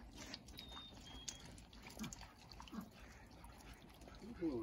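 Dogs splashing and dabbling in muddy meltwater on an Easter outing, faint intermittent trickles and drips with a little lapping, while a person talks softly.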